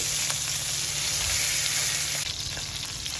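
A fish jaw pan-fries over medium heat with a steady, dense sizzle and crackle, close and loud, with a slight shift in texture partway through.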